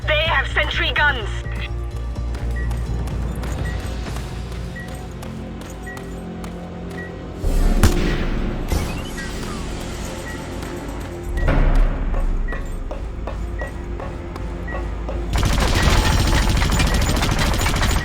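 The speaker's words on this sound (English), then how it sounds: "They have sentry guns." Sentry guns in the video game Just Cause 2 fire in loud bursts of rapid gunfire, with several sharp volleys breaking through, while people talk over the action.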